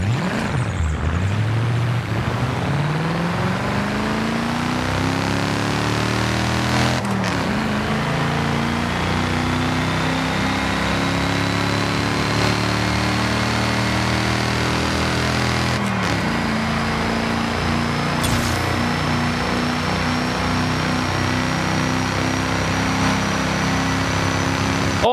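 In-game car engine sound from the racing game Forza Horizon 5, a steady high-revving drone with a whine that climbs gradually in pitch over about 25 seconds, with occasional gear shifts and no talking.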